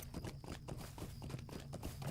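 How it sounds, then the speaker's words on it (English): A horse's hooves clip-clopping in the game Lord of the Rings Online, a quick even run of soft hoofbeats at close range over a faint background, no talking. "I'm just going to take my own horse back to Hobbiton."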